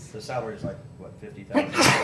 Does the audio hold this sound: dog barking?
no